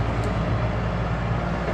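A Komatsu PC120-2 excavator's diesel engine idles steadily nearby, a low continuous rumble with a faint throbbing beat and no pauses.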